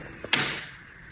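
Door closing, a short soft tap followed by a sharper slam and a brief fading rattle, heard once and fairly close in a quiet room.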